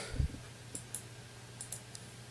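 Several light, quick mouse clicks on a computer, faint and close in a quiet room late at night, spaced irregularly in small pairs.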